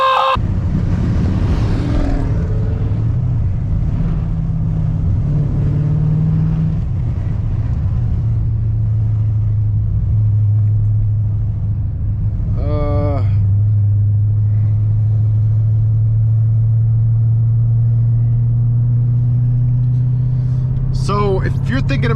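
A cammed Jeep SRT engine rumbles deep and loud from inside the cabin while driving, holding a steady low drone with a couple of short sharp noises, and a voice speaks briefly at the start.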